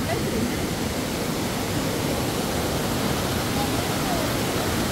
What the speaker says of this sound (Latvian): Sāka lietus līt.